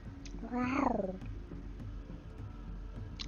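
A person imitates a cat's purr, then a rising and falling meow-like voiced tone, about half a second long and close up, before quieter low rumbling continues.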